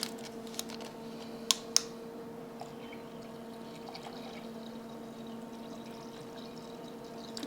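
Water poured into a pan of red wine gravy for prime rib, a brief soft trickle over quiet kitchen hum with a couple of small clinks, no talk.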